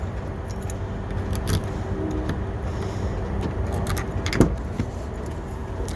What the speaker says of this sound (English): Well, I guess I should unlock it.